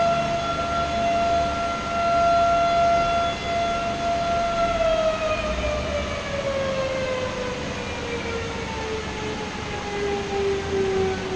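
A fire department siren wails steadily, its long tone slowly sliding downward in pitch, loud and sustained over a rumbling background with no one speaking.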